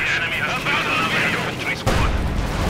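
Tank cannon and small-arms fire from a Company of Heroes 2 battle thud and crackle beneath an excited commentator, with a heavier blast near the end.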